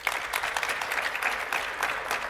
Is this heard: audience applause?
yes